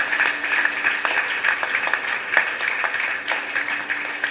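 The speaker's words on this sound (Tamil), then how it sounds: "எல்லாரும் கரகோஷம் பண்ணி ஆர்வாரம் பண்ணி மகிழ்ச்சியை தெரிவித்தோம்." Audience at a Hindu religious discourse on Andal's wedding applauding steadily, a dense wash of clapping that stays fairly even throughout, with no clear cheering standing out.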